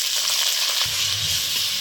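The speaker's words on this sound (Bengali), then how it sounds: "পেঁয়াজটা একটু ভেজে নেবো আমরা।" Onions frying in hot oil in a heated wok along with cinnamon and cardamom, a steady close sizzle throughout with a low bubbling swell joining partway, and no talking.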